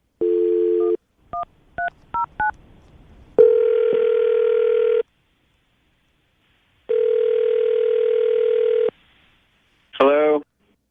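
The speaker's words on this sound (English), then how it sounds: "Okay, Katie, we're going to get him on the phone right now, see if we can get an answer as to why he ha" Telephone call being placed: a steady dial tone, then a quick series of touch-tone keypad beeps, followed by two long ringback tones and a short warbling burst at the end.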